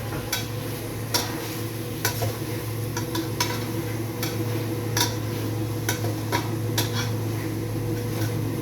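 Food being mixed by hand on a metal plate with a little oil: repeated soft scraping and clicking taps in an irregular rhythm, close and steady over a low background hum, with no talking.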